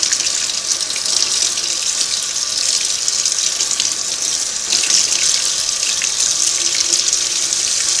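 Cold tap water runs steadily over just-washed Singer 301A sewing machine parts in a sink, rinsing off soap suds; a continuous close splashing gush with no talk.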